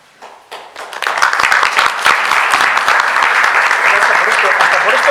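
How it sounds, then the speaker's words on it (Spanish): A lecture audience at a cultural talk in Castilla y León breaks into applause that swells within a second into dense, steady clapping. "Hasta por esto te dan un aplauso."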